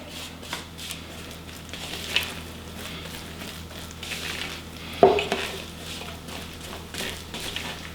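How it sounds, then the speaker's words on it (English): Jiffy cornbread batter for a southwest cornbread is mixed in a bowl, with soft repeated scraping and stirring strokes and one sharper knock of the utensil against the bowl midway. "just gonna get that mixed up"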